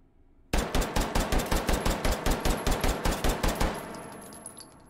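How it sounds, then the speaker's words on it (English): A Glock 17 Custom race pistol with a compensator fires a rapid string of about fifteen evenly spaced, loud, sharp shots in H3VR, then the reverberant tail fades after the last round. "Let's do the Glock 17 Custom race gun with the compensator."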